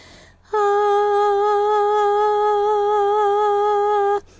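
A single sustained sung note, loud and steady in pitch overall but with a slight, uneven wobble from head-nodding instead of a smooth, controlled vibrato.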